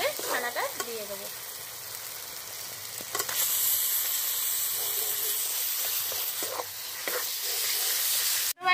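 Chhana (cottage cheese) goes into masala frying in oil with kasuri methi, bringing a steady close sizzle with occasional scraping stirs and a brief voice near the start.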